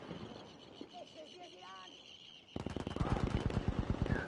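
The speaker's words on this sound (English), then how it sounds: "Hot Sauce is going to get popped by Echeverria" Video game match with automatic gunfire on a map with sandbags and smoke grenades: fast, loud bursts of rapid shots break in halfway through, after quieter game ambience with a commentator talking.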